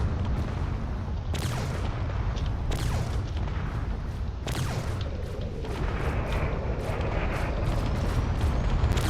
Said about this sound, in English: You see more missiles are being fired here.